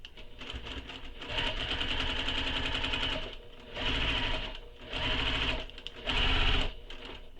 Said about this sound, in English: Now we're going to sew all the way around this box that we made, all the way around